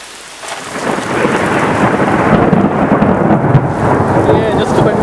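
Heavy rain pours steadily while a deep, rolling rumble of thunder swells and lingers through a storm outdoors, loud and close, with no voices.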